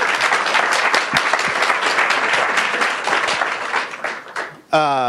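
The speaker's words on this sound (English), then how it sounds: "Big round of applause, please, for Matt Van Horn" Audience applause at a kitchen technology conference fills the room, steady broadband clapping that fades near the end as voices and a short musical tone take over.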